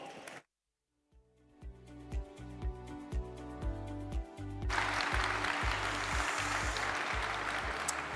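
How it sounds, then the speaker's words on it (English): A conference audience at the Guadalindie indie game event applauds to welcome speaker Mark Brown; a broad wash of clapping swells in midway and continues under loud, rhythmic music with a steady beat. "So, an applause."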